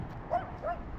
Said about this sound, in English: A little dog over there wants to kill me.